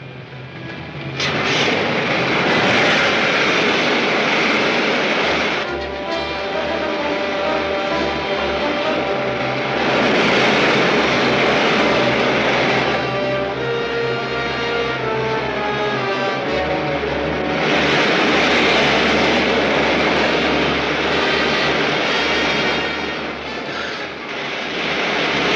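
Main jets of a rocket ship fire in an old serial film, a loud, sustained roaring rush that swells and ebbs in waves for many seconds with a low rumble underneath, alone and close.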